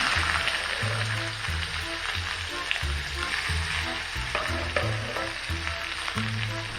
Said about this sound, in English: Let's put in the onion.